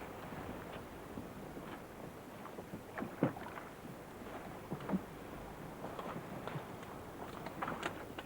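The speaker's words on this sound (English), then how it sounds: "The boats slide across the mud into the turning tide." Wooden Carrick cot boats slide over tidal mud into the turning tide, giving soft, low scrapes and scattered knocks and splashes at a distance under a steady outdoor hush.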